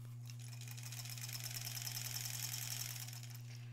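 A sewing machine runs a long continuous seam on an embroidered Halloween tote bag, a fast even whirring stitch with a steady motor hum, close and alone.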